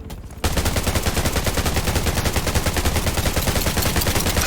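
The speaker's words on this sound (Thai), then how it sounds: "แล้วป้อมปืนนี่เลเวล5เลยว่ะ เราจะยิงยากหน่อยนะแต่ก็ยิงไปครับ" Sustained automatic gunfire in the game Undawn, aimed at a level 5 turret, hammers out as a dense, continuous rapid-fire stream, loud and close, beginning abruptly after a brief quieter moment.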